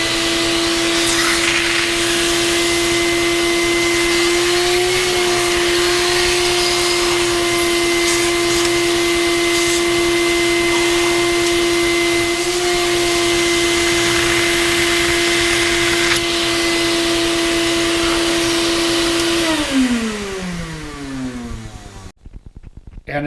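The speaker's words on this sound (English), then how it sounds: "it turns the vac off" A shop vac runs loudly with a steady whine and drone for about twenty seconds, then winds down as it is switched off by a homemade remote switch.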